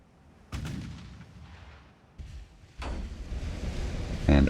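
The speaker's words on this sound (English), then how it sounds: "And all turrets are firing this time." Battleship turrets fire in the naval game Ultimate Admiral: Dreadnoughts, three heavy booming salvos a second or so apart, each followed by a rumbling decay, with a sharper crack at the end.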